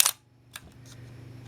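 A Minolta SRT 200 35mm film camera fires its mechanical shutter at a fast speed, giving a sharp close click, a second softer click shortly after, then faint quiet handling noise.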